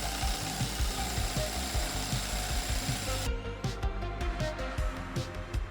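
A screwdriver-driven saw attachment cuts through a 20 mm board outdoors, giving a steady buzzing rasp with quick rhythmic strokes that runs unbroken across the whole stretch at moderate loudness.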